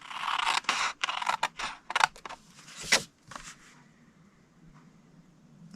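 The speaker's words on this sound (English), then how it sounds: "cut it to the first score line, and then take this rectangle off" Scissors snip through 6x6-inch craft paper along a score line for a Halloween treat holder: a quick run of close, crisp cuts and rustles for about three seconds, then near quiet.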